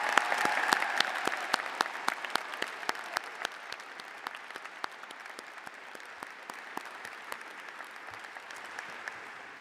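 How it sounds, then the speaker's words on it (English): A large crowd at a spring university commencement ceremony applauds the graduating class: a dense, sustained roar of clapping with sharp individual claps popping out, holding steady for nearly ten seconds before easing slightly. "Let's give them one more round of applause."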